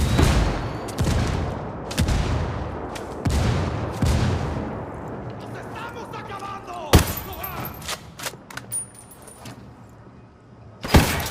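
Mortar strikes in Ghost Recon Wildlands during an attack on a general: heavy booming blasts land in a rapid series, followed by scattered sharper impacts and debris, with voices talking over the action.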